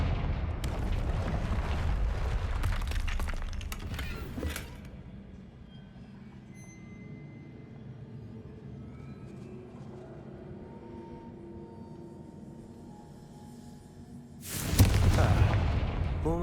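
Confringo fire-blast spells in the game Hogwarts Legacy burst with loud, rumbling explosions, one roaring blast at the start fading into a long low rumble, then a second heavy blast near the end.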